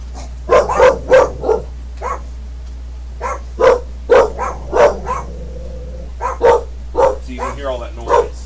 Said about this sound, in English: So you can hear all that noise. Those dogs.